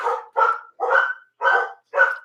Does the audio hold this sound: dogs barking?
yes